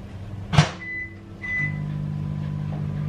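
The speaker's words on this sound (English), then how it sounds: "Do a microwave, Bella." A short clunk, then a steady low hum with a faint whine as a microwave oven starts running.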